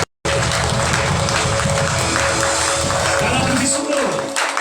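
A church congregation applauding and cheering during a Sunday service, dense sustained clapping with voices shouting over it, loud and close, beginning abruptly and fading slightly at the end.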